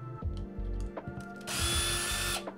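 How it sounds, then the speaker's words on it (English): A power drill whirs in short bursts, then a longer high-pitched spin as it pre-drills screw holes in wood, close and fairly loud. "So what I like to do with my brushes is pre-drill my screw holes."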